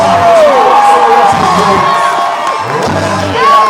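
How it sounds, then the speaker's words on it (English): A loud crowd at a BMX ramp show screams, whoops and cheers continuously, with shrill individual shouts rising above the roar throughout. "We hear you guys screaming and yelling and carrying out there."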